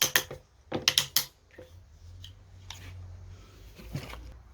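Plastic wedges being pushed and tightened onto tile spacers between 3 mm floor tiles, giving a quick cluster of close clicking and ratcheting snaps at the start, then a couple of fainter clicks over a low hum.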